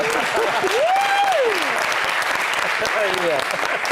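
A studio audience at a French television show applauds steadily and loudly throughout, a dense wash of clapping with a voice calling out and rising over it near the start.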